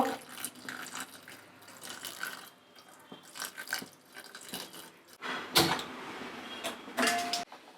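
Water trickles and splashes into a pot of jaggery to melt it for bele obbattu, quiet uneven pouring and dripping sounds with a few clunks and creaks nearby.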